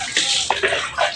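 Shower water runs in short splashing bursts, close and fairly loud, with brief gushes rising and falling.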